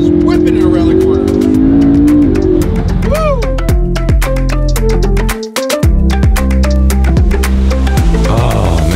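McLaren accelerating around a street corner, a loud close engine pulling steadily with rising and falling revs, mixed with talk over the motor.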